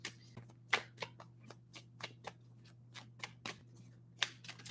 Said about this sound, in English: I have like very limited room to do these shuffles and everything